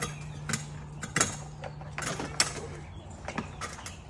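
Speakers being unhooked during a foam party teardown: a run of close clicks, clunks and latch rattles at irregular intervals over a low steady hum.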